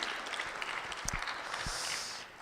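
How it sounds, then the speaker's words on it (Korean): A church congregation claps at a New Year service, a steady, fairly quiet wash of many hands with a few sharper knocks partway through. "하나님께 다시 한번 영광의 박수 올려드리길 소원합니다"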